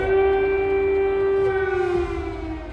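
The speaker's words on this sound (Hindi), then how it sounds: "जब जब सायरन की आवाज आती है" An air raid siren in Ukraine wails in a sustained, steady tone that dips slightly in pitch near the end, loud and alone with no voices.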